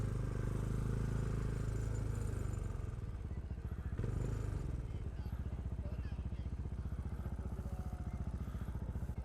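A 2020 Bristol Classic 400i motorcycle rides between cones with a steady, loud single-cylinder thrum and shifting rumble, heard close from the rider's position under his talk.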